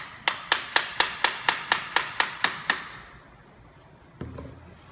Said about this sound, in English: to hammer it in place